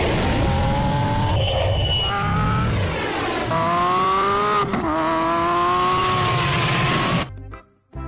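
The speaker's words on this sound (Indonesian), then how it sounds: "di sini ada mobil balap." A toy race car gives off a continuous electronic engine whine with rising and falling tire-squeal tones. The sound plays loud and close for about seven seconds, then cuts off abruptly.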